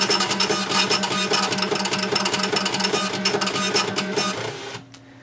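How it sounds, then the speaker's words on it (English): A Toshiba IBS-200 cash register prints a receipt, its printer giving a steady, busy mechanical chatter of rapid repeated strikes for about four and a half seconds before cutting off into quiet. "on the printer, all of the values on this display will get printed out on the receipt"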